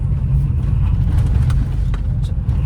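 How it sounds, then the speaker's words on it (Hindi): A Tata Tigor pulling away gently in second gear, heard from inside the cabin as a steady low engine drone and road rumble, fairly loud and even throughout. "गाड़ी उठाई है आराम से मैंने सेकंड गियर पे"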